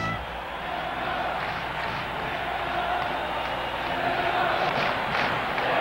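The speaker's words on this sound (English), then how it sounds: "a frenzied crowd roaring in his ears" A frenzied crowd roars at a 1981 Celtics–Sixers playoff basketball game in Boston, a steady, dense wash of arena noise that swells slightly toward the end.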